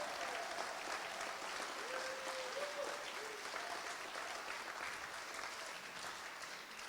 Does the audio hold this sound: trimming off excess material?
no